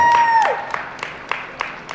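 A crowd claps for a goat show class winner: a short burst of applause settles into a few scattered claps, with a voice sounding over the start.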